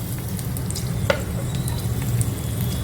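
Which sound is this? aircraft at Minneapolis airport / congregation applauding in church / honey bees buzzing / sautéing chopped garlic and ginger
sautéing chopped garlic and ginger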